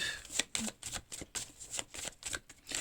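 Tarot cards shuffled by hand for a single card draw, a close run of quick papery riffles and soft flicks in uneven bursts, with no talk over them.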